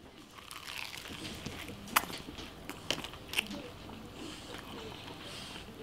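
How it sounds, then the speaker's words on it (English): Close-up crunchy bites into a sandwich with chips in it, a few sharp crackling crunches with chewing and rustling between them, set against quiet background noise. "Tell me if y'all hear a crunch."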